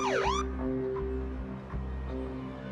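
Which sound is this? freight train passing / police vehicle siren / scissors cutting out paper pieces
police vehicle siren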